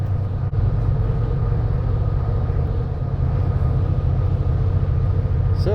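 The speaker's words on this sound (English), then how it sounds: "you see the locomotive here, it's a diesel locomotive" Diesel locomotive train on the Odessa to Chisinau route, a steady low rumbling drone close by, with a faint brief horn-like tone near the end.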